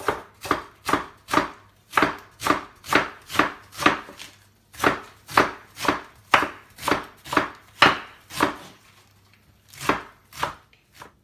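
A knife chops through dough for Chinese baozi buns on a board, with about twenty crisp, evenly spaced close cuts in a steady rhythm and a few short pauses, and no talking.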